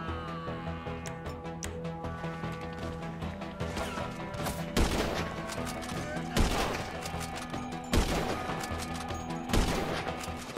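Gunfire in the video game GTA Online during a cemetery fight, four loud sharp shots spaced about one and a half seconds apart over a steady backdrop of game music and ambience.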